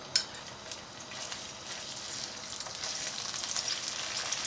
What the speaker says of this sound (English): Let's heat some ghee or clarified butter to a pan.